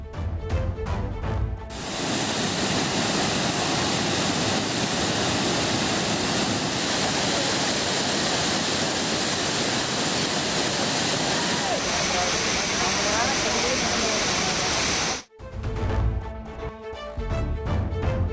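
Heavy waterfall roar at Hogenakkal where tourists bathe after oil massages, a loud, steady broadband rush filling most of the clip, framed by brief bursts of other sound at the start and end.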